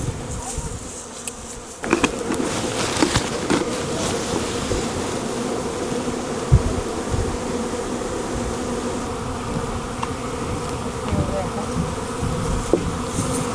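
Honey bees swarm around a newly started hive, a dense continuous buzzing hum that stays close and steady throughout, with a few soft knocks and handling sounds and no talking.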